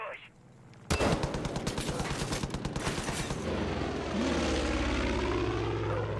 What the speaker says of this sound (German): Ich will dieses scheiß Flugzeug abschießen.